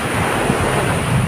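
Sea surf at a beach in Davao roars loudly and continuously, mixed with heavy wind buffeting the microphone, with no one talking during this brief stretch.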